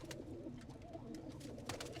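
Soft Johnson pigeon cooing close by, low throaty calls repeating over a faint steady background, with no talking.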